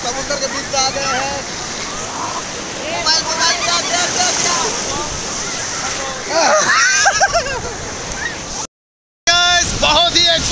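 Sea waves splash and wash in at a beach in Puri, loud and close with a continuous surf roar, while people talk and shout excitedly over it and the sound briefly cuts out near the end.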